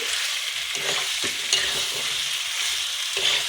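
Country chicken is sautéed down in a pan, a loud continuous sizzle with repeated stirring scrapes of a spatula, close and without any talking.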